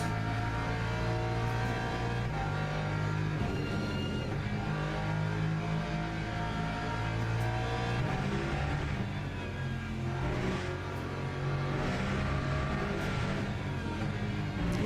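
A Lexus race car's engine in a Le Mans racing game drones steadily and loudly for the whole stretch, revving and shifting pitch as it accelerates, with no talk over it.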